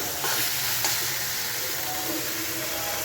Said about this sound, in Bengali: এখানে বসিয়েছি ডাটা শাক ভাজা